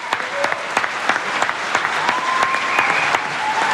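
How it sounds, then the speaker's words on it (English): A concert hall audience applauds loudly and steadily, dense clapping filling the space with scattered shouts and cheers rising through it. "some were clapping hands, some were shouting"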